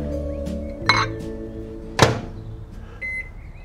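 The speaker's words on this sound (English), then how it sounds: "I'm doing these poached eggs in a cup in the microwave." Microwave oven heating poached eggs in a cup: a steady low hum, punctuated by two sharp clinks or thunks of the door or dish, then a brief electronic beep near the end.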